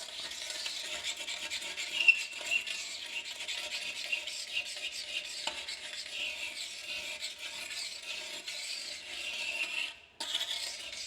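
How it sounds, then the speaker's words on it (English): A toilet bowl ring gets scrubbed with a brush, a continuous rasping, rubbing scratch heard up close and fairly faint, with a brief break near the end. "Nice thorough scrub."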